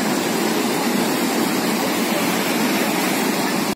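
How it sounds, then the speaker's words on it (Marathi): A river below the trail near Kedarnath, among snow, rushes under heavy pressure, a steady loud roar of water that runs on without a break. "नीचे इतने प्रेशर में नदी बह रही है"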